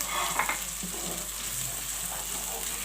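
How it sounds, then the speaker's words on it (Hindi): Onion with ginger garlic paste frying in oil for a fish curry, cooked over medium-low heat: a steady, close sizzle with occasional stirring scrapes, and no talking. "अब हम इसको अच्छी तरीके से भून रहे हैं।"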